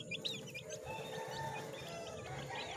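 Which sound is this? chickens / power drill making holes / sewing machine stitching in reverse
chickens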